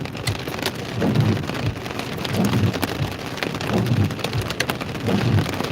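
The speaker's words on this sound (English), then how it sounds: "But you can still hear the hail." Hail and heavy rain falling during a central Texas thunderstorm make a dense, continuous patter on surfaces, swelling in waves with low rumbling beneath and no talking.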